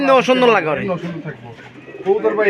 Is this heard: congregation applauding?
no